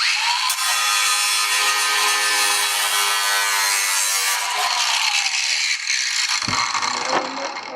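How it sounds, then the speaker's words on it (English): An angle grinder trims the edge of a GRP fibreglass panel, a loud continuous high-pitched whine with a gritty cutting rasp that shifts and roughens toward the end as the disc bites into the material. "Now if I just touch the grinder on this face, as the grinder bites into the material"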